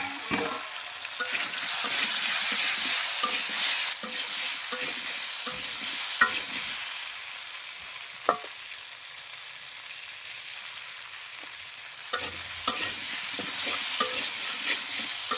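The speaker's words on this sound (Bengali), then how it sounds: "সবজি সিদ্ধ হয়ে গেছে, একটু নাড়াচাড়া করে ভাজা হয়ে গেলে নামিয়ে নেব।" Vegetables fried in a pan over a clay earthen stove, with a steady sizzle and repeated scraping stirs of a spatula against the pan, close and clear, no speech.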